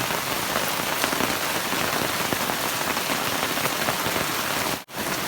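A downpour of heavy outdoor rain keeps up a loud, constant patter and hiss, with one very brief dip near the end before it resumes.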